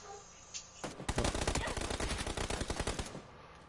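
A rapid burst of gunfire in the video game PUBG, with sharp, closely spaced shots cracking for about two seconds after a quiet lead-in, loud and near, then cutting off.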